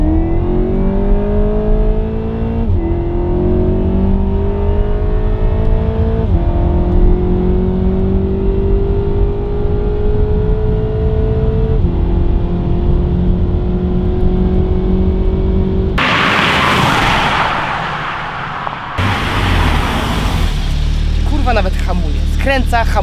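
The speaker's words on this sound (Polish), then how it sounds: "Kręca, hamuje, przyspiesza się." A Seat Leon Cupra estate engine revving and pulling through several gears, the rising pitch resetting at each shift, then a harsh burst of wind or road rumble near the end; someone talks over parts of it.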